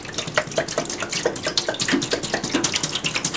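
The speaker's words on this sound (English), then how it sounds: "Excuse the glugging noise." A gallon of tap water is poured from a jug into a container, giving an uneven run of close, bubbly glugs and splashes that carry on without pause.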